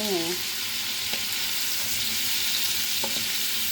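Shrimp sauté in a pan as ginisang hipon, with a steady, close sizzle and frying hiss running throughout, plus a couple of faint utensil taps.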